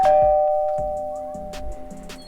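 Several clear doorbell chimes ring out in quick succession, each a bright ding with a lingering tone, close and fairly loud.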